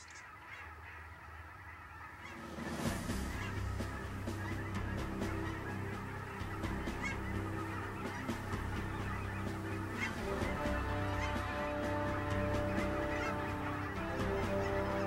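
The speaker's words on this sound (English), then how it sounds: "The autumn equinox brings flocks of cackling and Canada geese, tens of thousands strong" A large flock of cackling and Canada geese honks continuously in a marsh at the autumn equinox, dense overlapping calls building from a quieter start into a loud, steady clamor.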